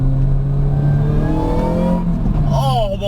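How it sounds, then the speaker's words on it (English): A 216 BHP supercharged Ford Focus engine revs loudly up through the range with a rising whine, then drops back and blips again near the end, close and continuous. "Just do not expect that noise coming out of a Ford Focus."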